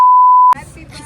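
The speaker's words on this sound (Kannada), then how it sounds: "ಅಲ್ಲಿ ಬೀಪ್ ಹಾಕ್ತೀನಿ" A steady electronic censor beep tone lasts about half a second, loud and clean, then cuts off abruptly as muffled talk begins.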